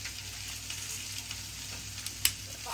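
Red chili and capsicum frying in a pan as part of a restaurant-style kadai vegetable dish, a steady close sizzle with a faint clink near the end and no voices.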